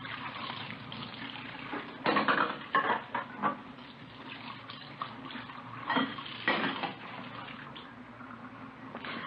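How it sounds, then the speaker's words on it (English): Dishes and cutlery clatter in a kitchen sink under a steady run of tap water, a radio drama sound effect, with several clusters of sharp knocks and clinks over the faint wash and no talking. "We found her in the kitchen washing dishes."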